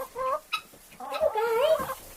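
Chickens clucking close by, a few short clucks followed by a longer drawn-out cackle, with no talking.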